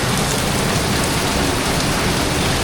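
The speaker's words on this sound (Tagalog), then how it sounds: "talagang tagtanim na talaga mga kadudoy lakas ng ulan." Heavy rain pours down outdoors, a thick, constant wash of drops hitting surfaces, loud and steady throughout with no speech.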